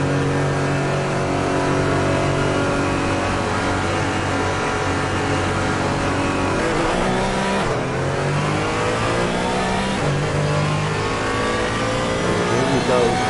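GT4 race car engine on a qualifying out lap at Misano in Assetto Corsa Competizione, droning steadily with rising and falling revs and gear shifts under continuous commentary from a voice.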